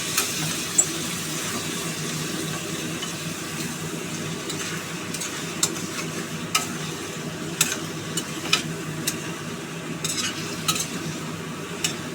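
A spice paste for jackfruit curry sizzles and fries in a pan after hot water is added, a steady bubbling hiss with occasional sharp clicks of a spoon stirring against the pan.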